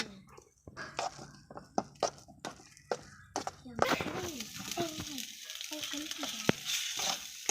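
Fried rice is stirred and mixed in a pan with quick scraping spoon strokes and clacks, then a loud sizzling hiss rises midway, while someone talks throughout.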